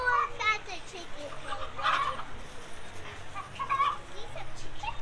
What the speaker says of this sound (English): A lot of chickens, huh?